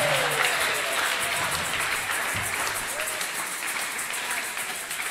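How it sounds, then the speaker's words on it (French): A church congregation applauds and cheers loudly, a dense wash of clapping that is strongest at the start and eases slightly as it carries on, with faint voices mixed into the crowd noise. "Est-ce qu'on peut encore acclamer très fort?"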